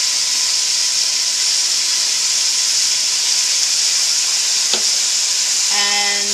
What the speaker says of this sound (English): then I'm going to brown 1 pound of ground beef